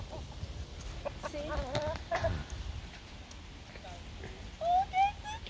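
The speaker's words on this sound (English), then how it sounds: "Oh my god, look at that chicken." A chicken at a zoo enclosure near a play area with goats clucks in a few short bursts, with a couple of sharper calls near the end, while people talk close by.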